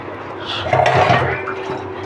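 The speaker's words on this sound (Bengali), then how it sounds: "এই বাসনগুলো মেজে নিই" Kitchen utensils and pots being scrubbed and washed at a home sink, with steady clinking of metal dishes and running water, moderately close and continuous, growing busier midway.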